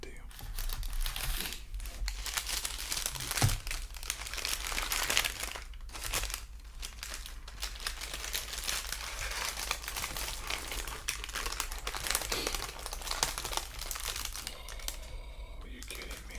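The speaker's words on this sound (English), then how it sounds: "Now, what I'm gonna do is unwrap them so I can explain them and show them to you." Candy wrappers from Gatlinburg, Tennessee are unwrapped close up, with crisp plastic crinkling and rustling going on throughout, in irregular bursts mixed with soft whispered talk.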